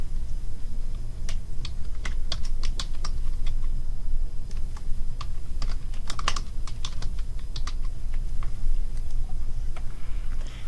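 Steady, rapid typing on a computer keyboard, continuous key clatter for about ten seconds with a low background hum, no voices.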